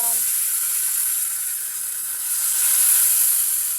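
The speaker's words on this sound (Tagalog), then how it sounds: "prito ng galunggong" Round scad fish sizzle steadily in a hot pan with oil, a continuous bright hiss swelling slightly toward the end, heard up close without voices.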